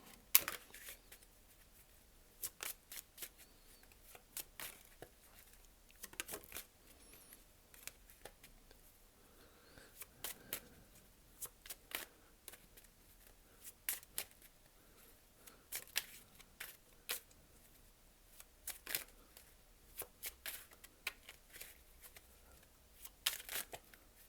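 Tarot cards being shuffled in a quiet room, soft repeated riffling and flicking bursts at irregular intervals over a faint background, with no talking.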